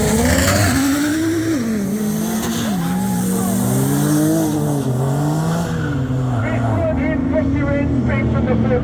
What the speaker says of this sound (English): Last big fat wheel spin lighting up the 20s